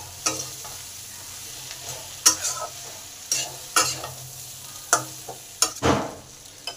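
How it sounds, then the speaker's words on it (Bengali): Chili, cumin and coriander powder being stir-fried in a pan, a soft steady sizzle broken by repeated scraping strokes of a spatula against the pan at an uneven rhythm, close and alone. "এই মশলাগুলো ভালো করে কষে নেব।"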